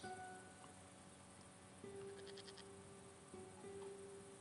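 A goat bleats a few times in the video game Broken Sword 5. The calls are faint over a steady bed of chirping insects.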